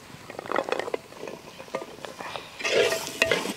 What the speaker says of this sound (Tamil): முருங்கைக்காய் போட்டு நல்லா 1-2 நிமிஷம் வதக்கலாம்.